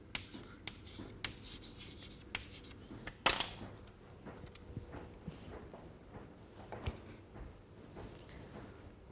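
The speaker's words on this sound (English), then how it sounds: "I will also write Cassandra." A pen scratches across paper, writing the word Cassandra in short, faint strokes with small taps and pauses, quiet and close.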